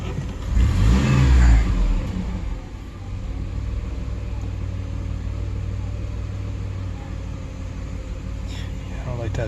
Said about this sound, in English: Let this idle for a minute.